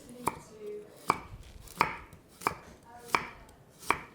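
A knife chops a carrot into fine matchsticks on a board, with six sharp, evenly spaced cuts ringing out close and clear, no talking, while Japchae ingredients are prepared.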